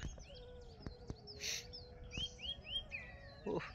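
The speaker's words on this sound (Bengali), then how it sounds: "দলে দলে পাখিগুলো যাচ্ছে।" Flocks of birds calling at dawn over water in the Sundarbans near a fishing boat, with faint chirps and whistles in a steady low background hum, plus a few sharp clicks and a brief rustle.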